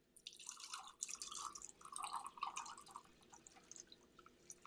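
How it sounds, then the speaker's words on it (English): Drinks poured over ice cubes into martini glasses, a close trickling, splashing stream with irregular dribbles and clinks, uneven in strength, no talk. "we start the pour"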